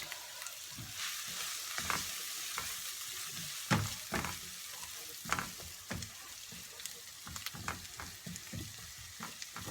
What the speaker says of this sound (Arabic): ندبلو مليح البصل تاعنا هكذا.